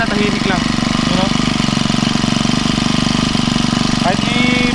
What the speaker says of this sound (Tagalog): Pakinggan nyo yung makina, tahimik lang.